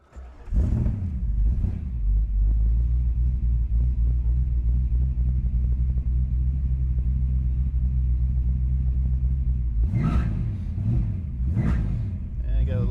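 A 1966 Shelby GT350 convertible replica's engine rumbles steadily while cruising, low and continuous, with a couple of brief rises in revs near the end.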